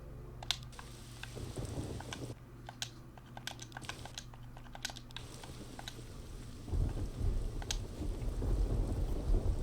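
Thunderstorm with rain in the video game Risen 2: Dark Waters, steady rain patter broken by sharp crackles and a deep rolling rumble of thunder that swells near the end, no voices.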